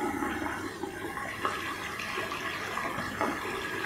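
Tap water runs steadily into the detergent dispenser of an Electrolux EWF 1073 washing machine during a manual pre-wash, a constant splashing flow with no voices.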